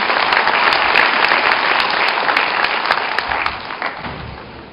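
An audience applauds at Seoul Digital University's spring 2011 entrance ceremony and orientation, with loud, sustained clapping that eases off slightly toward the end.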